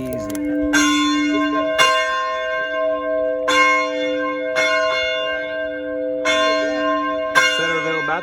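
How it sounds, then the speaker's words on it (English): Old style church bells at a Baptist church ring out a call to worship, with about seven evenly spaced, resonant strikes whose long humming tones overlap and sustain between blows. "The call to worship, old style bells."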